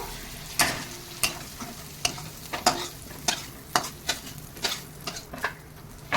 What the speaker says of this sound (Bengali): এবার এই টমেটোগুলো গেরিটা দিয়ে একটু কষিয়ে নিই